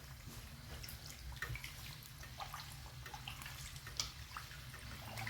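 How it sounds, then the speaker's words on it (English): Pizza fritta dough bubbling in hot oil while being basted, a steady close crackle and sizzle with scattered pops and drips throughout. "You hear it bubbling away, just keep basting it, folks."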